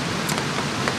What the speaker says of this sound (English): And now it finally started raining.